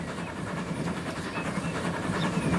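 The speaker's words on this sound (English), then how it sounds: "Here comes a train." A train rolling past in the Transport Fever 2 simulation game, a continuous rumbling, rattling wagon noise with a low steady drone, moderately loud and unbroken with no talk over it.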